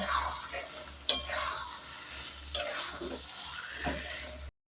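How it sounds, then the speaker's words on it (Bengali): Taro stolons (kochur loti) are stir-fried in spiced masala, with a soft sizzle under scraping spatula strokes and a few sharp clinks against the pan. "কচুর লতি দিয়ে এবার আমি এটা ভালো করে কষিয়ে নিচ্ছি"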